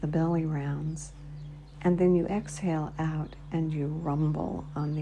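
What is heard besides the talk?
No everyday noises stand out.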